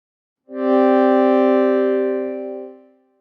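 A single sustained synthesizer tone with rich harmonics, an ambient patch on a Prologue synth with built-in reverb, swells in, holds steadily, then fades into a short ringing tail.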